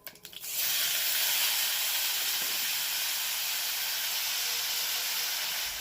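Thin star fruit slices hit hot oil in a pan tempered with mustard seed for a chutney, bursting into a loud, sustained sizzling hiss that continues steadily after a brief clatter.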